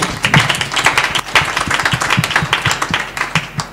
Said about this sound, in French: Là, on applaudit.